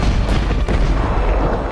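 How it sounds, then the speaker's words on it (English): Shockwave explosion from the film Jurassic World Fallen Kingdom: a loud, continuous deep rumble with a couple of sharp bursts near the start, heavy and sustained throughout. "that shockwave explosion clearly messed with Rexy's hearing"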